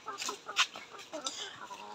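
Layer hens on a poultry farm cluck in short, irregular bursts at moderate volume, a few calls overlapping in a quiet shed.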